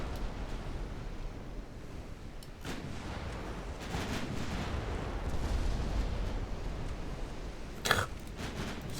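A ship blows up in a naval strategy video game. A low, rumbling battle din of distant booms and surf-like noise runs throughout, with a sharper blast near the end.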